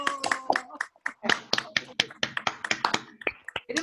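Scattered hand claps and finger snaps from a few participants on a Zoom video call, coming as irregular sharp bursts, with voices talking over them throughout.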